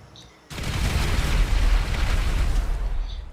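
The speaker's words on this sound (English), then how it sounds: "Explosive ammo" Explosive ammo from a mod menu in GTA 5 Online goes off as a sudden loud blast after a quiet moment, then a dense rumbling roar holds steady before tailing off.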